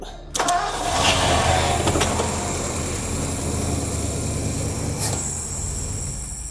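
A Ford Thunderbird engine, sitting unrun for 15 years and started by jumping the solenoid, cranks briefly and then fires into a loud, steady, rough running roar close by, with a few clanks over it.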